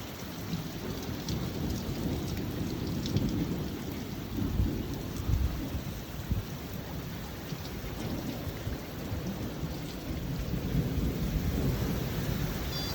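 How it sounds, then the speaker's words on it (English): Steady heavy rain pours throughout, with low rumbles of thunder rolling in the distance. "Well, it's definitely raining."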